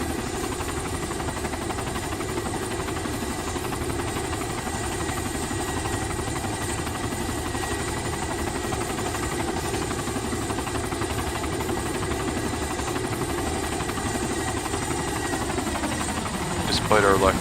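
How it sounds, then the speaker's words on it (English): A steady Mi-8 helicopter drone in the video game Arma 2, with low engine rumble and rotor hum running continuously, close and constant, with a brief swell near the end. "It was just one long chopper ride away."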